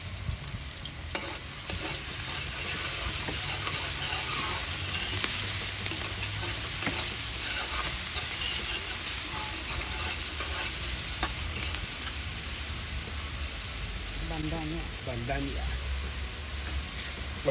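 Garlic sizzling in hot oil for a curry while a utensil stirs it around the pan, a continuous close frying hiss with scraping, and a faint voice briefly near the end.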